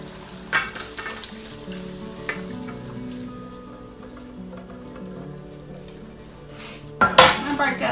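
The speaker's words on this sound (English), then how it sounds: "and now I'm just going to drain it." Browned ground beef is handled in a pan for a Mexican casserole, with low sizzling and scattered metal clinks and scrapes, then a louder clatter and rush near the end.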